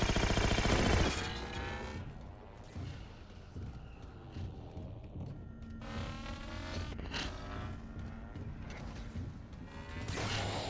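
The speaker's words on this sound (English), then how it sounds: "I'm just gonna shoot randomly" Gunfire in a Halo video game, with continuous rattling bursts of shots and mechanical clanks mixed with game effects, fairly steady throughout at moderate loudness.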